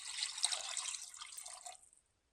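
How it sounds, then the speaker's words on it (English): A short stream of water pours into a pot for beef soup, splashing for about two seconds, bright and close, then tapers off into silence. "I'm going to start by adding two cups of water to this."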